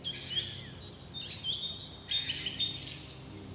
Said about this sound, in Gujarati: દરેક વખતે અલગ અલગ પક્ષીઓ બોલે